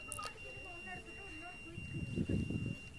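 A Tata Play DTH satellite dish signal finder gives a thin, continuous high-pitched beep once the signal locks. The faint tone runs steadily under someone talking nearby, with some rustling handling noise toward the end.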